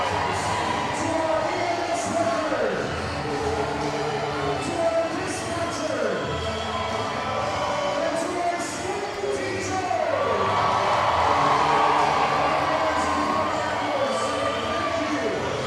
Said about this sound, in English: Never gets old hearing the raucous applause for the school teachers at the end